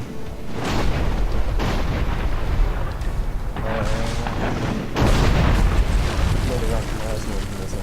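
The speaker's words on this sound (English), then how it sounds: "Cannons again." Several heavy cannon booms go off in irregular succession in the video game Dungeon Siege III, close and loud, while someone talks over the continuous battle noise.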